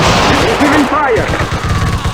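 Gunfire in the video game Close Combat crackles in a dense, continuous rattle of overlapping shots, loud and close, with a voice in the mix.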